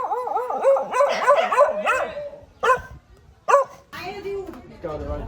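Several dogs in Sri Lanka, rounded up for sterilisation, bark and yip in quick, excited bursts at close range, with a few whimpers between the barks.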